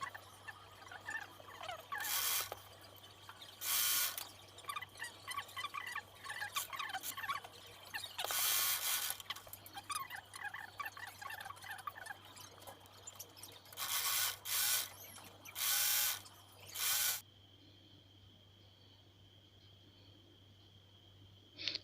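A sewing machine stitches a side seam on a pair of short pants in several quick bursts of rapid mechanical clatter separated by pauses, with a steady low hum underneath.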